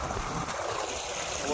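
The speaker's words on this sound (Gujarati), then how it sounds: "બોરનું પાણી ચાલુ થઈ ગયું" A borewell water pump on a farm runs as water gushes out in a steady, dense rush, close by and continuous for the whole moment.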